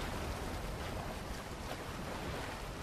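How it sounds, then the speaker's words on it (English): Water floods in within the underwater city of the Bioshock video game, a loud continuous rushing roar that fills the scene steadily throughout, with no talk. "Whoa, crap, a lot of water."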